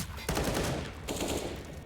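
Suppressed USP pistols fire in a CS:GO pro match on the Train map, fired through smoke grenades as a quick volley of muffled shots over a dense background of game noise.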